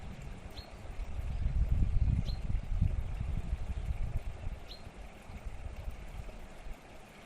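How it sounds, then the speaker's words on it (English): A steady, rushing wash of water flowing in a stream fills the scene, heaviest in the lows and easing slightly toward the end, with a few faint, brief bird chirps above it. "noting the sound of water in the recording"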